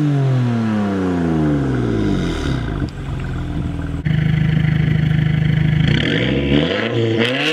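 A BMW M4 or a stage 3 modded Subaru WRX accelerates hard and loud, its engine note climbing through several gear changes with brief dips between shifts, close by and with no talk over it.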